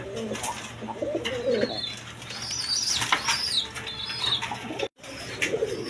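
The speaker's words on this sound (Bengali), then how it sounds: "এখানে এক পেয়ার লাহোরি আছে, একদম বিগ সাইজের ইউসেফের" Big Lahori pigeons in a loft flap their wings in brief bursts among soft cooing and chirps, close and lively, with a short gap near the end.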